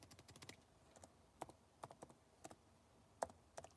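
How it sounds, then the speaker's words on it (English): Soft, scattered key taps on a laptop keyboard, irregular clicks close by in a quiet room, with a slightly louder tap at the end. "I'm typing in something. I'm on my smallest laptop that I got right here"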